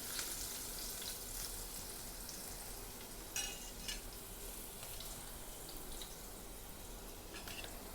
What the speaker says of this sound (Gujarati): મરચું અને લસણ જે સુધારેલું છે એ નાખી દઈશું લસણને એક મિનિટ સાતરવા દેશું